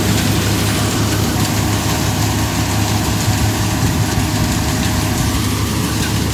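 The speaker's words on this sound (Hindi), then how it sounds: "आह ट्रैक्टर आ फार्मट्रैक 60" A Farmtrack 60 Supermaax tractor idles steadily with a low, rumbling diesel throb, loud and close, a constant even engine drone with no talking.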